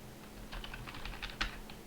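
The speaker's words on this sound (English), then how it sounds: "I'm going to type where the column name" Light typing on a computer keyboard, a short burst of soft, quick keystrokes close by with one slightly louder tap near the end, over a faint background hum.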